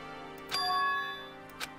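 A doorbell chime in the video game Danganronpa rings once with a clear, bright tone that lingers, followed by a short soft tick near the end, against a steady hum of background music.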